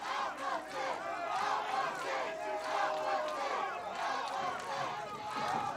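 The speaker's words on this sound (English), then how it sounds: "Listen to this crowd." A professional wrestling arena crowd during a six-person brawl, a continuous roar of many voices shouting and yelling together, loud and sustained with rising surges.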